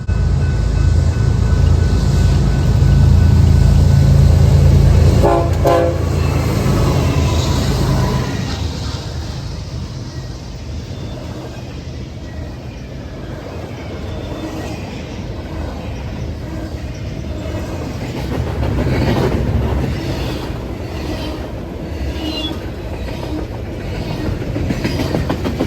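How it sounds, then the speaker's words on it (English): A long Los Angeles-to-Chicago freight train rolls past on a rerouted main line, opening loud with what looks like a sustained horn blast, then a steady rumble and rhythmic wheel clatter that swells again near the end. "This train usually takes the Chillicothe sub, but instead got rerouted onto the racetrack."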